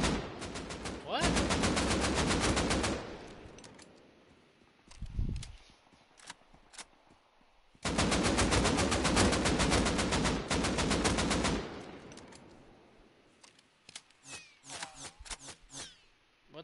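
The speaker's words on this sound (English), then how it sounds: "What the fuck is shooting me?" Gunfire in an online shooter game: long bursts of rapid automatic shots aimed at the player, coming in two loud sustained volleys with quieter scattered shots and a thud between them, plus some faint talk.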